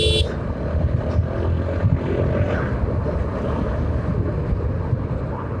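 A 4B motorcycle engine running steadily just after an oil and oil-filter change, ridden on the Dhaka–Sylhet highway; a loud continuous drone with wind rush, no talk.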